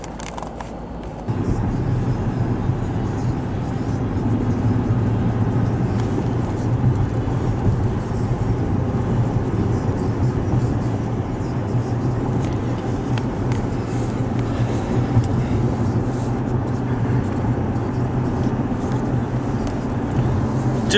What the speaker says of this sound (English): still driving.